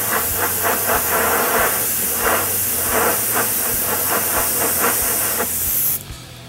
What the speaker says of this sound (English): I'm going to spray it nice and wet.